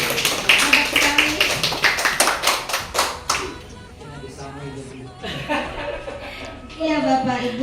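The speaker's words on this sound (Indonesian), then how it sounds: "Beri tepuk tangan yang hebat sekali." Audience applause at a school teachers' presentation, a few seconds of loud rhythmic hand clapping with light laughter, fading into talk that carries on to the end.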